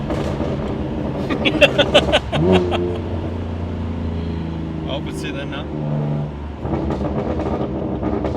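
Exhaust burbles and engine revving from a BMW F80 M3 with a Stage 2 custom tune in Sport Plus mode, loud and close with crackling pops over a deep idle, while people talk over it.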